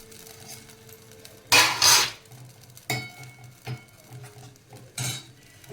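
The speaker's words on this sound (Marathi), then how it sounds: "त्याच्यावर लगेच झाकण ठेवायचं" A metal lid clanks down onto a cooking pot with a few loud clattering knocks, then lighter taps and scrapes of utensils follow in a quiet kitchen.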